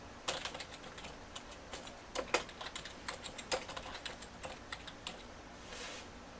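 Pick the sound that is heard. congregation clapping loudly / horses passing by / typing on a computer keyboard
typing on a computer keyboard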